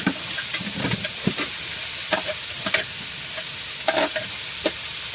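Potatoes frying in a pan, a continuous sizzle punctuated by irregular scraping and clinking stirs of a utensil against the pan, fairly close and without speech.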